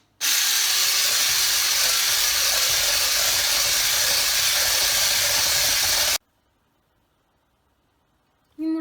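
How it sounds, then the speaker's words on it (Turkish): Electric whisk beating eggs and sugar in a bowl for a Father's Day cake, a loud, steady whirring buzz that runs unbroken for about six seconds and then cuts off abruptly into near silence. "3-4 dakika boyunca çırpıcımızla bunları şimdi çırpacağız"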